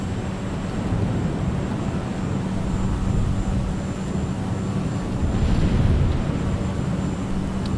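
An aircraft flies a right base onto final approach with full flaps for runway 10 at Ngerende, Kenya, in Microsoft Flight Simulator 2020, heard as a steady low engine drone with broadband airflow rumble, constant and without talk.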